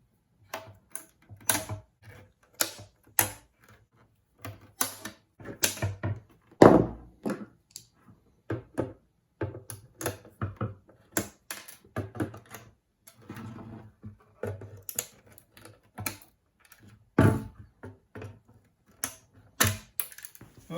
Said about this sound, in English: So I have to cut off each of the metal pieces.